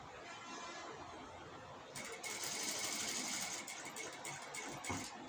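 A sewing machine stitches the V-shaped neck of a star-neck blouse, its quiet steady whirring rising into faster, brighter running halfway through, close by and with no talking.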